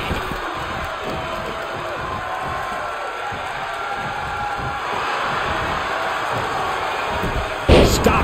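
Steady crowd roar and murmur from a virtual arena in the WWE 2K22 wrestling game, sustained throughout with a brief louder swell near the end, under commentary.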